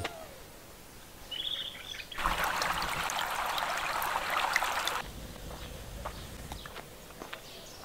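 A swift current of water runs through a palm grove beside a slightly leaking water channel, a broadband rush that swells loud for about three seconds in the middle before easing back, with faint birdsong around it.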